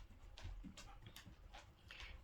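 A dog comes into a room: faint, scattered paw taps and movement noises, with a soft whimper or pant, close but quiet.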